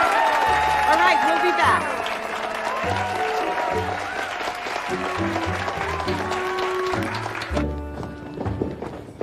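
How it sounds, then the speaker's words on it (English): An audience applauds a young couple on stage at a Valentine's Week event, with the clapping running under music while a voice speaks briefly near the end. "One more round of applause for these two kids."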